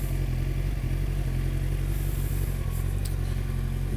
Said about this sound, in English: So this bike is running, I told you about the Akrapovic.